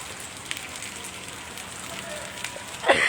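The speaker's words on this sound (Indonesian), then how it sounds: "Nah, kondisi di sini Tribuners masih hujan." Steady rain falls at Daya bus terminal in Makassar, a continuous soft hiss of drops on surfaces throughout, with a brief louder knock near the end; a person speaks over it.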